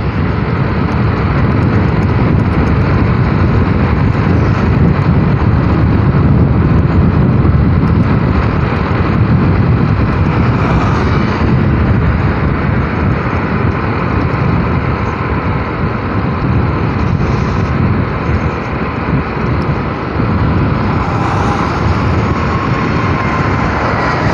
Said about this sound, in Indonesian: itu take off teman-teman, pesawat Citylink tadi ya